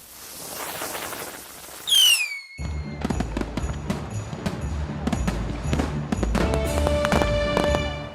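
New Year's fireworks crackle and pop in rapid, dense bursts, with a whistling rocket rising into a loud bang partway through, followed by sustained crackling and sharp reports.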